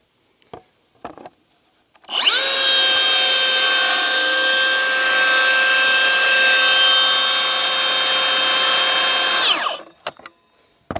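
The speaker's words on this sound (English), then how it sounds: "one of the beauties of using PVC is it is so easy to cut through" A power saw cuts through PVC exterior trim board, a loud sustained whining buzz of about seven seconds that starts and stops abruptly, with brief handling clicks before and after.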